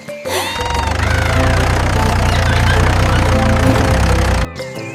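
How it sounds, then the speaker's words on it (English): A cartoon tractor engine chugs in a loud, steady low rumble with a rattling knock, starting abruptly and cutting off near the end, with a faint voice at the edges. "Nana rode a tractor to school."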